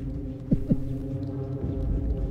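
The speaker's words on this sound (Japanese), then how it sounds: "ドックンって今、心臓の音が聞こえたね" Two heavy, low thumps of a heartbeat in Little Nightmares 2, a quick double beat over a dark, droning hum in the underground hospital, with no voices.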